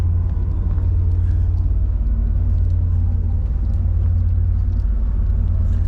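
A Port Townsend ferry engine gives a deep, continuous rumble on the open sun deck, loud and steady with a low throbbing drone and no talking.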